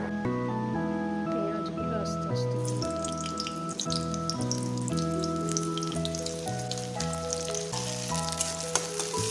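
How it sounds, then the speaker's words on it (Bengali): Chopped onion sizzles and fries in hot mustard oil in a pan, a steady crackling hiss running throughout beneath background music and a voice. "একটু গরম হয়ে গেলে এতে আমরা অ্যাড করব পেঁয়াজ কুচি।"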